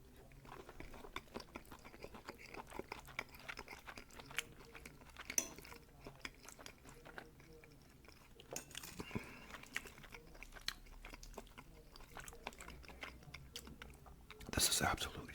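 Shrimp spaghetti with sun-dried tomato and basil is chewed very close to the microphone, making soft, wet, steady chewing and faint crunches, with a louder burst of noise near the end.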